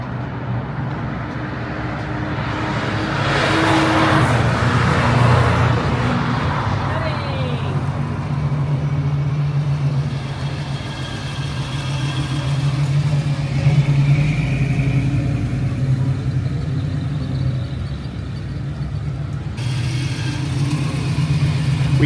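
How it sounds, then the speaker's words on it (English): Several 1980s cars driving through a street chase scene being filmed in the San Fernando Valley, engines humming steadily with occasional revving, mid-distance, with people talking over the traffic throughout. "That's the main car right there that's doing the chase scene."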